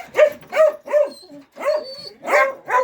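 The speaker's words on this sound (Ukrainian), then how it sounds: "Ось такий представник породи, дуже крупний кобель." A very large male Estonian hound barks in a quick series of about six loud, close yelping barks, with short pauses between them and no one talking.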